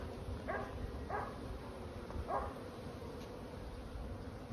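Honeybees swarm thickly around a crowded backyard hive, a steady low buzz with a few louder passes of individual bees drifting close by, no talking.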